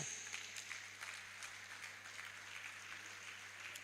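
A university ceremony audience applauds Professor Idem as he walks up to the stage to give a goodwill message. The clapping is faint, distant and steady throughout.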